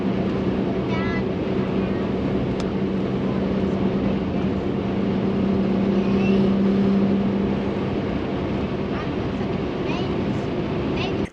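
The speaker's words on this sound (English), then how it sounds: "Wind noise at highway speeds, yeah, you're driving a brick." Steady wind roar and road noise fill the cabin of a 2020 Jeep Gladiator cruising at highway speed, fitted with add-on lights and big mud tires. A loud, unbroken low drone with airy rush continues throughout.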